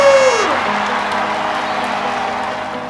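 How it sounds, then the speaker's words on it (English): A crowd applause and cheering sound effect at the end of a Scratch race game coding tutorial, a falling tone leading into steady clapping with a voice over it. "Cue the virtual applause!"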